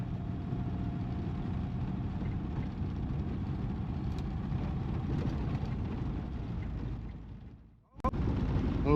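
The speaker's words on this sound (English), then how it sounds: "But the car is driving" A car driving along the road, its engine pulling in second gear as a steady, loud rumble with road noise that fades briefly near the end before returning at full strength.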